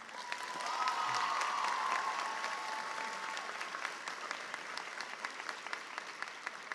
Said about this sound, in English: please join me in giving a big round of applause to our teachers